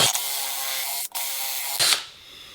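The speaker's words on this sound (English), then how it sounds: "you get a drill bit, something slightly smaller than the screw that you want to put in, and you drill a hole" A power drill with a tapered bit bores a hole in wood in a workshop, its motor whining steadily close by, with a short break midway before a final louder burst and then quiet.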